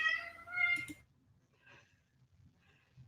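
A cat gives a short meow close by and then falls quiet, leaving only faint low room noise and soft stirring.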